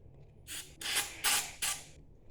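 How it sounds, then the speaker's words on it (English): Carb cleaner is sprayed into an engine in four short hissing bursts, each about a third of a second long, close to the microphone in a quiet garage. "we'll just spray this down in here real quick"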